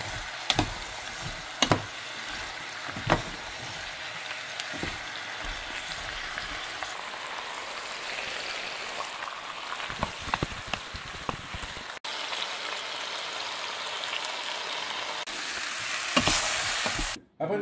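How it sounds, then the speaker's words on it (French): Squash and diced onions sweat in a pan, giving a steady soft sizzle with scattered clinks and scrapes of a utensil stirring, close and moderately quiet, with no voices. "Notre courge et nos oignons sont en train de suer."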